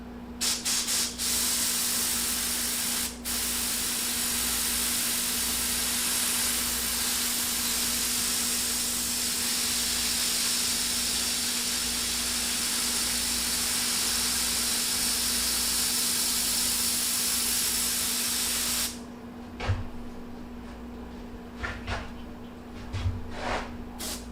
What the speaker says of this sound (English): So a lot of times I'll take my airbrush and kind of just darken that down.